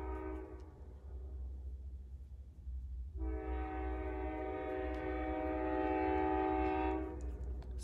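A train rumbles past nearby, sounding a long, loud multi-tone horn blast that fades, then returns for several more seconds over a steady low rail rumble.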